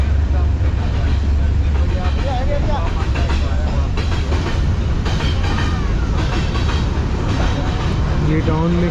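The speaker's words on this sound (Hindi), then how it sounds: "ये टाउन में एक मालगाड़ी जा रही है जिसका शोर आपको सुनाई दे रहा होगा ज़रूर" A freight train rumbles through town close by, with a loud continuous roar, rhythmic clickety-clack of wheels over rail joints and occasional metallic squeals, steady from start to finish.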